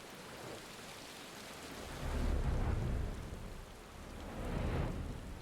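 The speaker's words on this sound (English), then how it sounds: "And it's raining. What lovely weather for a prey return." Steady rain pours in Final Fantasy XIV ambience, with low rolling thunder swelling twice beneath the constant hiss, fairly faint overall and with no one talking.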